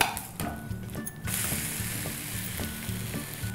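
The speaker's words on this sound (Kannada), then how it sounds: "ಈಗ ಒಂದು ಕಡೆ ಬೆಂದಿದೆ, ಇನ್ನೊಂದು ಕಡೆಗೆ ತಿರುಗಿಸ್ತಿದ್ದೀನಿ." Onion uttapam sizzling on a hot tawa over medium flame as it is flipped, a steady frying hiss broken by a series of scraping clicks from the spatula, close and fairly quiet.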